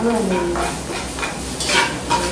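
Garlic sizzles steadily in a hot pan while being stirred, with a continuous close frying hiss and occasional scraping of the utensil against the pan.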